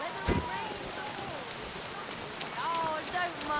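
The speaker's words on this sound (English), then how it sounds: "Oh, don't mind the rain." Rain falls steadily in the medieval world of Kingdom Come Deliverance II, a continuous hiss of drops with faint thunder-like rumble, under background townsfolk voices and scattered tonal game sounds.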